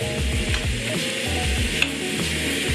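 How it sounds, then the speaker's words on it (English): Chicken pieces sizzle steadily in a hot frying pan as they are turned over, with a continuous close crackle and soft scraping bumps from the flipping. "As for our chicken, I'm gonna just flip them around"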